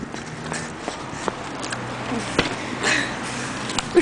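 Rapid hoofbeats of a galloping horse, sounding game-like, with a few sharp thuds and a snort over a steady background.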